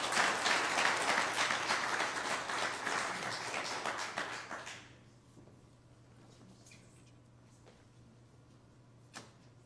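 Audience applause for an award winner at a business awards ceremony, a dense burst of many hands clapping that cuts off after about five seconds, leaving a quiet room with a low hum and a faint tap near the end.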